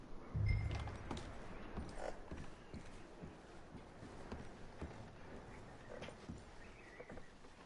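Horse hooves clip-clopping in Red Dead Redemption 2, with soft creaks of tack and gear. The steps come quiet and irregular over low background ambience, with no talking.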